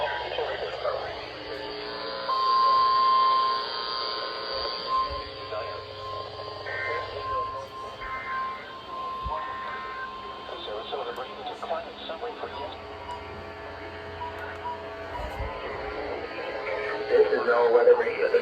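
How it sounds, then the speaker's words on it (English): A NOAA Weather Radio transmission of a required weekly emergency alert system test covering the Florida listening area, with a steady broadcast tone heard early and a synthesized voice speaking over radio hiss and static throughout. "The preceding signal was a test of the public warning and alarm for transmitters of the Florida listening area"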